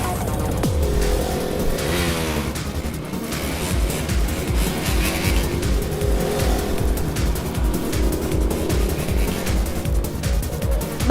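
A motorbike engine roars through a movie chase scene, loud and continuous with dense revving, screeching tires and a busy action soundtrack throughout.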